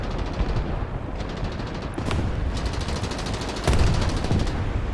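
Tank gunfire in War Thunder on a desert map, heard as a few sharp distant cannon reports over a constant rumbling engine and battlefield din, with a louder shot near the end.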